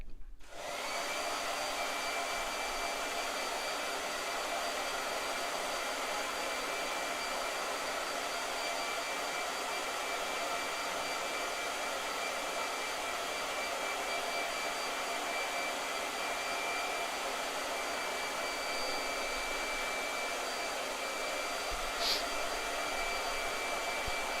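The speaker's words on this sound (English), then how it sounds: "Blow dryer." A blow dryer runs continuously at close range with a steady, loud, even whoosh that starts abruptly and holds without a break for over twenty seconds.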